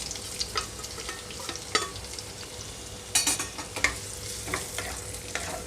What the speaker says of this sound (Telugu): ఇప్పుడు ఇందులోనే కట్ చేసి పెట్టుకుని ఉల్లిపాయలు పచ్చిమిరపకాయలు వేసేస్తున్నాను